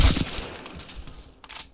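Burst of gunfire in Apex Legends, a sharp loud shot at the start followed by a few fainter cracks that trail off over under two seconds.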